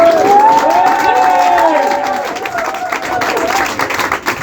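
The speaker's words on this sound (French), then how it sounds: "je vous propose d'accueillir Blaze avec une tonne d'applaudissements." Comedy club audience breaks into loud applause and cheering, a dense wash of clapping with whoops that swells at first and gradually thins out over several seconds.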